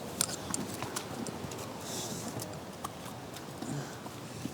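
Horses clip-clop over massive rocks on a mountain trail at Four Girls Mountain in Sichuan, the hooves sounding as irregular close knocks and scrapes against steady outdoor background noise.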